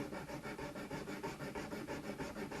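Steady back-and-forth scraping of sticky sandpaper on an MDF block during violin repair, a continuous close rasping rhythm with regular strokes and no talk.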